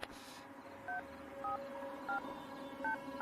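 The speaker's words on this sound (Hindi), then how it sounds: "यार तू फोन लगाएगा ठीक है प्लीज" A telephone number is dialed as a short series of DTMF keypad tones, each tone a brief beep separated by pauses, fairly quiet over a soft background hum.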